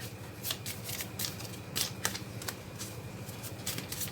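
Tarot cards are shuffled by hand in a quick run of soft riffling and flicking bursts, fairly faint and close, with no talking.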